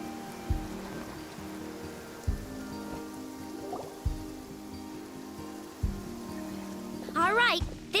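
Steady rain in a video game, a continuous wash of falling drops with regularly spaced low thuds and a short burst of chirping tones near the end.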